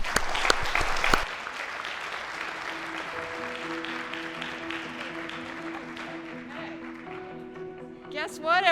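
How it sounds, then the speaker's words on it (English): Conference audience applauding at the close of a keynote conversation, a brief burst of clapping that gives way to sustained tones and background sounds, with a voice rising near the end. "So please just give you a round of applause"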